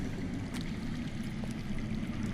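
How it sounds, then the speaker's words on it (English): Steady broadband wash of flowing water in the Game of Thrones video game, low and muffled as if from below ground, continuous with no break, no voices. "That's water. I hear water. From underground."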